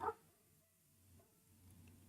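A dog gives one short, sharp bark right at the start, close to the microphone and fairly loud, then a quieter room hum takes over with no further barking.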